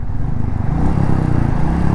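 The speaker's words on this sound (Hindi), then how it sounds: "वाइब्रेशन जो है इस मोटरसाइकिल में, मैं थोड़ा सा रेस देता हूँ" A Royal Enfield Meteor 350 motorcycle engine idles up into a light rev, a deep steady thumping rumble close by that rises slightly in pitch over two seconds.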